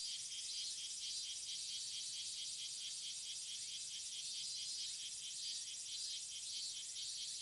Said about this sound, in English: Now we can hear the sounds of the cicadas.